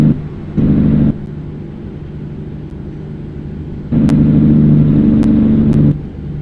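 A truck engine in American Truck Simulator hums low and loud while climbing a hill, swelling twice into heavier revving bursts before settling back, with a few faint clicks and no voices.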